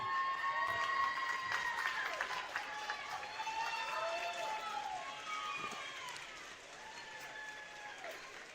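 Crowd at a girls' varsity basketball game applauding the winning team as the inaugural tournament trophy approaches, steady clapping that slowly fades, with sneaker squeaks on the court mixed in.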